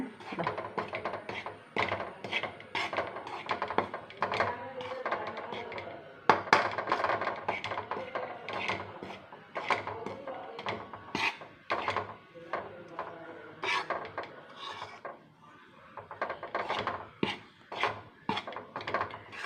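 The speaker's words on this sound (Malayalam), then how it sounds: "ഇതിനി നമുക്കൊന്ന് വറുത്ത് വയ്ക്കണം" Ground corn flour being roasted and stirred in a pan, with busy, irregular scraping, knocking and metallic clinks of a utensil against the pan that run throughout at a moderate level.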